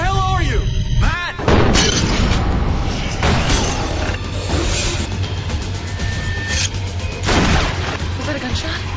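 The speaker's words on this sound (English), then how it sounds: "Was that a gunshot?" Gunshot sound effect in an alien abduction audio drama: a sharp boom cuts through a dense, noisy dramatic soundscape, followed by further heavy impacts and rumbling, loud and close, with voices and effects layered throughout.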